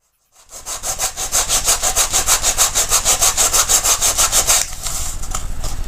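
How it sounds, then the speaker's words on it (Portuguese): Close, steady back-and-forth rasping of a nail file sanding the raised side of a small craft souvenir box, about two strokes per second for several seconds, alone with no talk, then a softer scraping as the strokes stop. "Agora a gente vai lixar essa lateral aqui que ficou um pouquinho mais alta."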